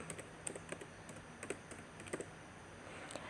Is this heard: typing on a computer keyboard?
yes